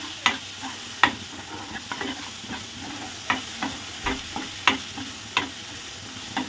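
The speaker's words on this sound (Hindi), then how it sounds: "तो इसको भी हम 2 मिनट के लिए इसी तरीके से भूनेंगे।" Rajma masala, salted, roasting in a pan at a dhaba-style kitchen, with a spoon scraping and knocking against the metal every second or so over a steady, soft sizzle close by.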